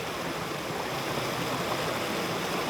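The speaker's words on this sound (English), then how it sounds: "we have this nice waterfall, or small waterfall there" A stream runs into a small waterfall outdoors, making a steady, full rush of water that stays constant throughout, with nobody talking.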